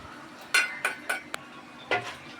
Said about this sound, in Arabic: نقلب الرز كده.